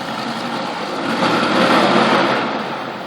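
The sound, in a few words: boat engine passing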